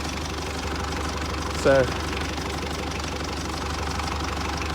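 A tractor engine runs steadily after being jump-started from a Ford F-150, a continuous low rumble that holds at an even level throughout, with a single brief spoken word near the middle.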